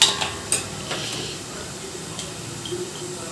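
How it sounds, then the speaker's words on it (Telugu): Masala stirred into a pan for prawn and lady finger curry, with a spoon scraping and knocking against the metal over a soft continuous sizzle, close up with a few louder clanks at the start. "సో ఒకసారి ఇప్పుడు కలిపేసుకోవాలి."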